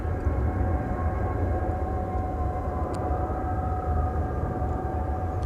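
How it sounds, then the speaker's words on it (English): A UPS Boeing 747-8 freighter arriving at DFW Airport, seven years old and inbound from Louisville, gives a steady, loud jet roar with a low rumble and a faint whine that hold constant throughout. "UPS 747 coming in from Louisville, a 7-year-old 7478"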